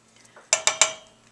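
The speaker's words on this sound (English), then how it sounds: "So whisk all of that in there." Three quick scraping clinks of a whisk against a bowl while whole wheat flour is worked into homemade mustard, close and fairly loud against a quiet room.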